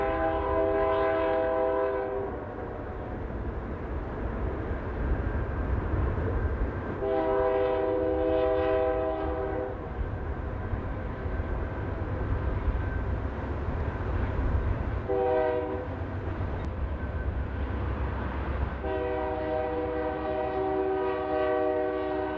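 A Norfolk Southern SD70ACE locomotive rolls past with its train, sounding repeated loud multi-note horn blasts over a steady rumble of diesel engines and rolling wagons.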